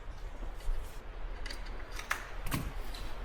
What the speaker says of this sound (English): I'm going to wrap a little bit of electrical tape around here.